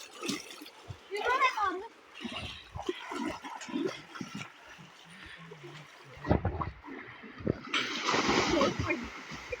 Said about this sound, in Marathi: तर आरुष आता पवायला चाललाय नदीत